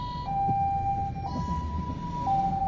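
A two-tone emergency siren alternates between high and low pitches, sounding close and loud above a rumbling engine.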